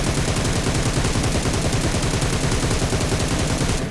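Continuous rapid gunfire from an unmodified rifle with a 4x scope in the battle royale game PUBG, a dense, loud, sustained burst of shots filling the whole stretch with no pauses and no voices.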